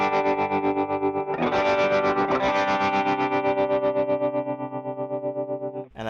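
Electric guitar through a tremolo pedal with tap tempo, sustained chords pulsing in a rapid, even volume throb, loud and close with no talking.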